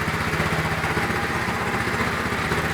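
A small motor tiller's engine runs steadily at idle, close and loud, with an even putt-putt pulse and a broad mechanical rattle throughout and no talk.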